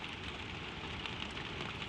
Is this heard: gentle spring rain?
yes